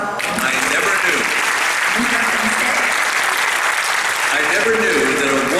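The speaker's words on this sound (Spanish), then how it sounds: "Un aplauso" Sustained audience applause at a parents' conference, an even roar of many hands clapping with faint voices murmuring underneath.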